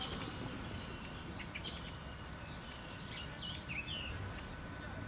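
Small birds chirping faintly in an outdoor soundscape, scattered high tweets over a low hum of distant city background, with no speech.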